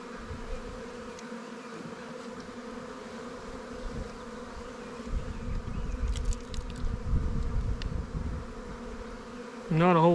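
Honey bees buzz steadily around an open hive frame of capped brood, bee bread and pollen, a close, continuous drone with brief louder swells as bees pass near.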